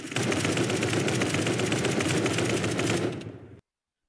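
An assault rifle fires 5.56 rounds in the Roblox game Anomic in one sustained, loud burst of rapid automatic gunfire lasting about three seconds, then cuts to silence.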